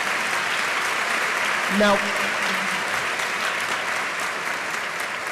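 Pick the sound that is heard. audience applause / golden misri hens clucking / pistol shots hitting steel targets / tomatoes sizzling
audience applause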